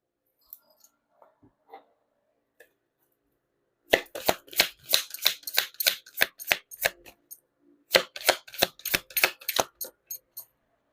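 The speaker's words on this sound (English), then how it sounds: "You saw me shuffle." Tarot cards being shuffled in two quick riffling bursts, crisp rapid flutters close up, after a few faint taps and near silence.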